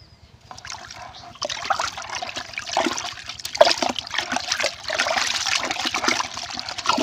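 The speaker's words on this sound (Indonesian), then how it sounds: "kalau sudah kita tuangkan, kita aduk-aduk supaya lebih merata" Water being stirred by hand in a container after pesticide solution is poured in for treating rice planthoppers, a steady sloshing and trickling churn that keeps on, close and alone without talk.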